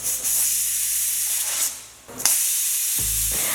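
Pressure cooker on high flame venting steam through its whistle while cooking dal, a loud sustained hiss that fades briefly and then bursts back, ending with a low rumbling thump.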